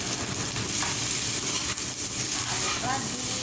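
Anchovy fried rice sizzling in a hot pan as it is stirred, a steady dense frying hiss with faint scraping, fairly close and continuous, a voice speaking briefly over it.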